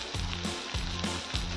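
Vegetables sautéed and stirred in a hot pan, with a loud close sizzle broken by quick rhythmic scraping strokes about three times in under two seconds.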